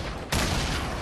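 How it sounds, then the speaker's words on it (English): Video game gunfire: after a short lull comes a sudden loud, dense burst of rapid shots that fills the rest of the moment, close and harsh, with no talking. "Where is he shooting from?"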